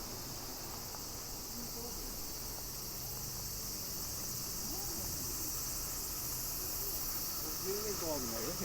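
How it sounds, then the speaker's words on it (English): Loud chorus of insects in Japan after the rainy season, a dense steady high buzzing that fills the whole stretch and carries on without a break beside a quiet road. "these bugs are coming out in full force and they're getting pretty loud"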